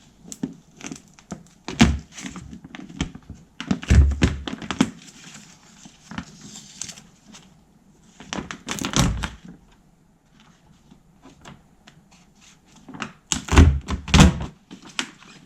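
A Nissan R35 GTR door with its door card removed rattles and knocks inside, heard as short bursts of hollow, woody thunks and clatters separated by quieter gaps.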